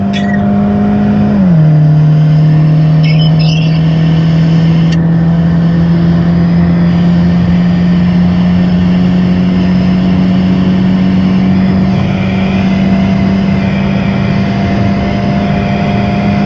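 A Mercedes C180 turbo diesel, fitted with an E250 turbo and tuned to about 240 hp, pulls hard uphill with a loud, steady engine drone that dips briefly at a shift, then climbs slowly in pitch.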